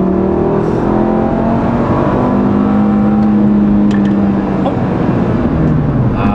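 Close, loud engine roar of an Audi RS3 accelerating hard from inside the car, with rising revs, a shift mid-run and brief sharp pops; voices speak over the engine.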